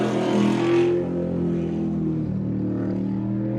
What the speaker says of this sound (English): Listen to the sound of that machine.